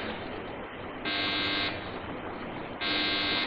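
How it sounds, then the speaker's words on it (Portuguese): An old security alarm system guarding an iron door buzzes in two loud, sustained bursts over a steady electronic drone. "De onde é este alarme?"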